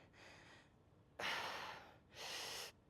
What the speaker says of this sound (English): Deep breath in. And out. In, out.